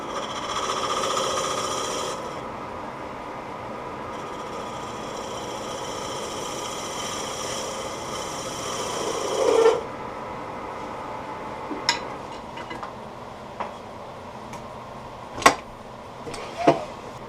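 A drill runs steadily boring holes into a wooden window blind pull in a woodturning shop, a continuous whine with a motor hum, then stops, followed by several sharp knocks and clatters.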